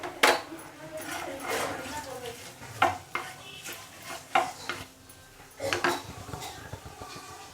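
Bay leaf, cinnamon and whole garam masala hit the hot oil left from frying fish, sending up a soft sizzle among repeated clanks and scrapes of a spoon against the pan.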